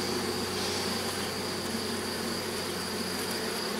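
Honey bees buzz densely and steadily at an opened hive frame holding pollen and larvae, a continuous close swarm hum with no voices.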